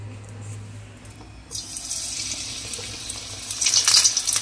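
Bengali onion fritters (piyaji) dropped into hot oil, a quiet low hum giving way to a bright, crackling sizzle that swells louder toward the end, with no talking.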